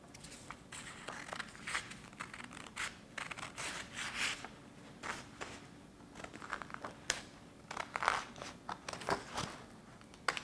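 Scissors snip a small paper circle free to make a fish's eye for an ocean craft, giving a string of short, close crinkly cuts and paper rustles with no voices.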